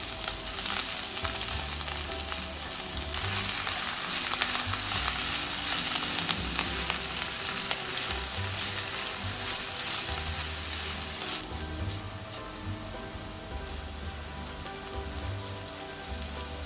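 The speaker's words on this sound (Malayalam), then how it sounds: "നമ്മുടെ അരിഞ്ഞ് മിക്സ് ചെയ്ത് വെച്ചിരിക്കുന്ന സാമ്പാർ ചീര അങ്ങോട്ട് ഇട്ട് കൊടുക്കാം" Chopped sambar spinach fries in hot mustard oil, a loud continuous close sizzle and crackle with occasional stirring scrapes. The hiss eases slightly partway through, and no voices are heard.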